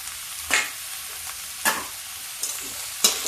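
Shredded cabbage and peas being stir-fried in a pan, with four distinct scraping stirs spaced across the clip over a quiet, steady sizzle; no talking.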